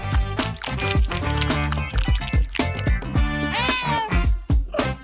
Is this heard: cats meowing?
yes